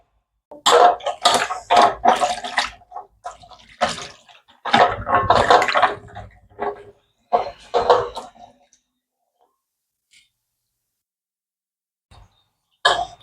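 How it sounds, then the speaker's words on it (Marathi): Dried Bombay duck fish being washed by hand in water, with bursts of splashing and sloshing at close range followed by a quiet stretch with a few drips. "आता हे ना दोन तीन पाण्याने स्वच्छ धुवून घेते"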